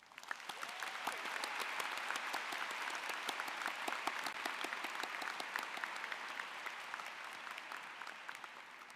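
An audience at a psychology commencement ceremony claps for graduating students, a dense steady round of applause that swells quickly and holds for several seconds before easing slightly, heard from within the crowd.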